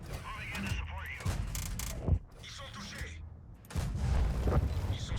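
A Batignolles-Châtillon 12t tank gun firing in World of Tanks, with several sharp loud cracks spread over engine rumble and battle noise.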